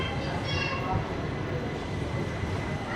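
Shirdi to Tirupati weekly express train 17418, after leaving Mantralayam Road, rumbles steadily on the rails with a dense, continuous roar, heard from on board with faint talk mixed in.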